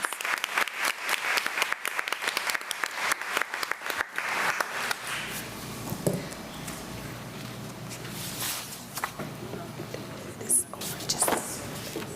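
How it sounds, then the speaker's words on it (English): Audience applause at a school board meeting as a teacher from Colleton County High School comes forward to be recognized, with dense clapping in the first few seconds that thins to scattered claps and room murmur. "please give him a round of applause as he comes"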